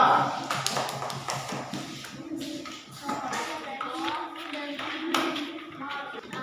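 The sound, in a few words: children applauding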